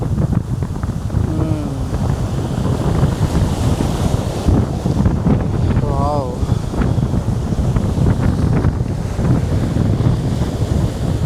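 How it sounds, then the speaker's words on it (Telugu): Steady roar of surf and wind on Keri Beach in Goa fills the whole stretch, with a voice briefly exclaiming over it. "అలల సౌండ్ అయితే సూపర్గా ఉంది"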